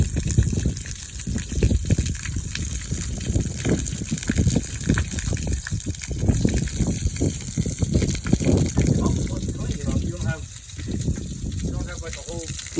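Water gushes out steadily as it drains from an underbelly, a loud, continuous close rushing splash that holds for the whole stretch, with faint voices briefly audible near the end.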